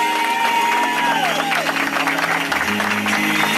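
Applause and cheering from a crowd at an evangelical church event, a steady loud wash of clapping with voices mixed in throughout.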